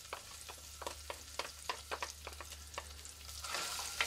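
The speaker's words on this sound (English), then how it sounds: "I'm going to take the red onion, and I'm going to toss that in there, and you can hear a nice little sizzle." Quiet, steady sizzling of red onion frying in a pan, with intermittent sharp crackles and a low hum underneath; no voices.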